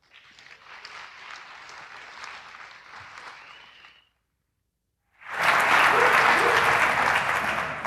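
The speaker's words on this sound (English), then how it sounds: "can we have a round of applause for Terence Edwards and his talk," Audience applause at a tech conference talk, a steady dense clapping for about four seconds, a brief pause, then a louder, fuller burst of clapping from the crowd.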